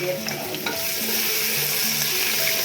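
Steady sizzling and crackling of garlic and onion frying in a pot, with occasional stirring scrapes, continuous and fairly close.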